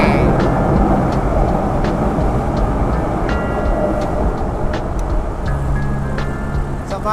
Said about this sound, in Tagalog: ang ingay ng LRT oh.